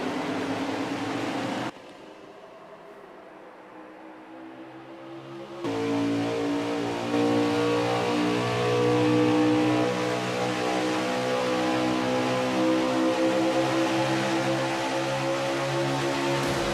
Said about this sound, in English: We're right back to racing here at Atlanta Motor Speedway.